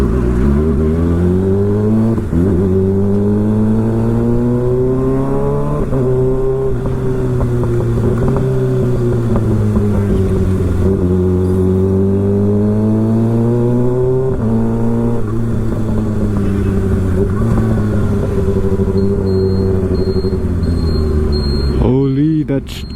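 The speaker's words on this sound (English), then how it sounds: "Holy moly! The M4 full system exhaust." A 2024 Kawasaki ZX6R fitted with an M4 GP19 full system exhaust revs loud and close, its engine note climbing and falling in long sustained pulls throughout, with excited voices reacting over it.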